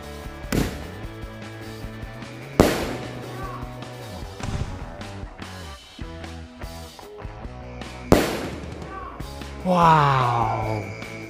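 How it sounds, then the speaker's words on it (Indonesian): Sharp explosive bangs from a flying mercon firecracker that shoots upward and bursts twice, a few seconds apart, over tonal background music. "Ini merconnya bisa terbang ke atas dan bisa 2 kali bunyi."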